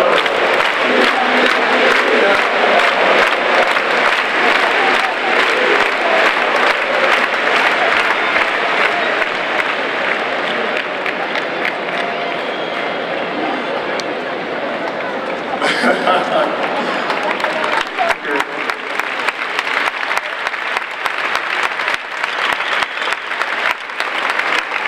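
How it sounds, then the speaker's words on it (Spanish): Stadium crowd at San Mamés applauding and cheering at Iker Muniain's farewell, a dense, loud, sustained roar of clapping with scattered shouts, steady throughout. "Un aplauso para..."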